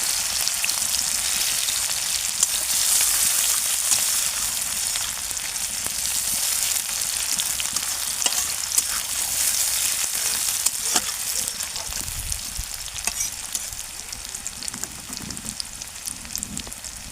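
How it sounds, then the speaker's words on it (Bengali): Chopped onion fries in oil in a pan, a steady, loud, dense sizzle that crackles continuously without pause and with no voices over it. "পেঁয়াজটা দিয়ে একটু ভালোভাবে পেঁয়াজটাকে ভেজে নেব"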